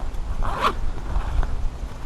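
A zipper on a 5.11 Rush 12 backpack is pulled in one quick close rasping stroke, with faint handling noise around it.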